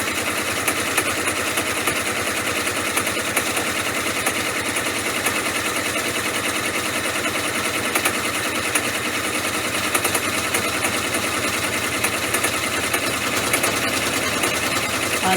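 An embroidery machine with fixed-height needle bars stitches fabric in a steady, fast, unbroken run of needle strokes, close and fairly loud, with no voices over it.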